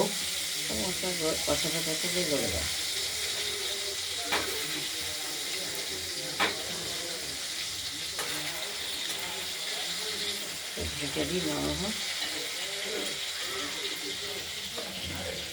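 Tomatoes frying with potatoes in a pan and being stirred together for a Pabda fish curry; a constant sizzle sits beneath a voice talking over it, broken by a few sharp clicks and knocks.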